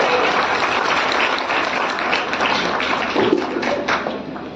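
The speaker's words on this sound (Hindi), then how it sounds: "एक बार जोरदार तालियां हो जाए।" An audience at a school program in Sarai Akil, Kaushambi breaks into loud, sustained applause that fades slightly toward the end.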